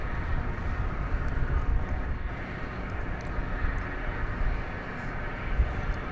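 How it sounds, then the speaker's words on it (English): Steady engine roar from a UPS Boeing 767 at DFW Airport, a broad continuous rumble that holds at the same level throughout with no voices over it. "here's that 767 we saw arriving just a few moments ago from Manchester"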